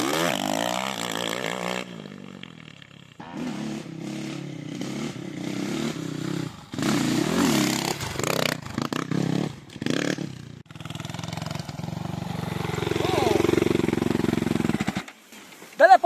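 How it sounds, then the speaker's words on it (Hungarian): A KEWS 450 carbureted motorcycle ridden through sand, its engine revving and sputtering unevenly with choppy gaps and surges, loud and close throughout. "simán élvezhető, jól kiforog, bár pöfög, pufog szegény, mert azért ez a karburáció"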